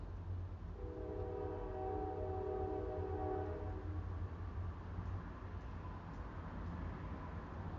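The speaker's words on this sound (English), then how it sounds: "I never knew I loved the sound of the train so much." A train horn sounds a sustained chord for a few seconds over steady rumbling rail noise, heard from a distance.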